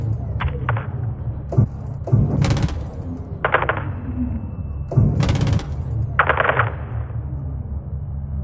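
Gunship rounds firing in Call of Duty MWII, several separate bursts of heavy fire spaced across the stretch, each a sharp rattling burst over a steady low engine drone, at a distance and without talking.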